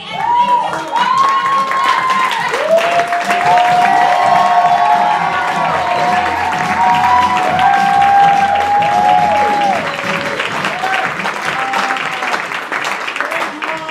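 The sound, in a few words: audience applause for theatre cast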